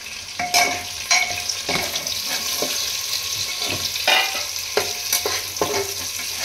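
Fried chicken and onions are stirred in a pan for pulao, with repeated spatula scrapes and knocks over a steady sizzle, close and moderately loud, without speech.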